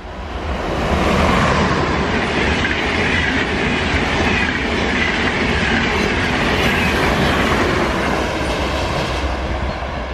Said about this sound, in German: Ah, ein schöner Zug. ICE 1 aus Richtung Frankfurt.